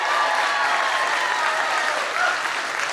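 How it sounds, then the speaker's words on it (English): Sustained applause from a large crowd, steady and dense clapping filling the whole moment. "I think we could give her a round of applause right now just to start."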